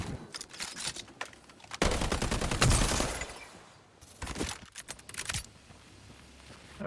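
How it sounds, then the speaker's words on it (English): Gunfire rattles in the shooter game Highguard, with several loud bursts of rapid shots separated by short gaps and lighter clicks between them. "3 body shots, but that's 3 body shots"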